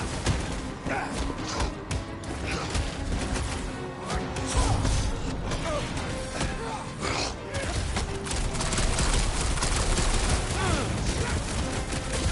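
Dense bursts of gunfire and crashing impacts from Rocket's blaster in Guardians of the Galaxy, loud and continuous battle noise layered with shouted voices and clattering effects.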